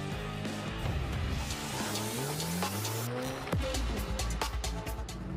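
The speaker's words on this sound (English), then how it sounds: "a Corvette Z06 with 475 kilowatts in the flat plane crank V8 motor, ceramic brakes, carbon wheels" A Corvette Z06 with a flat-plane crank V8, ceramic brakes and carbon wheels being driven hard on a racetrack, loud engine revs rising and falling with tyre squeal, close and continuous.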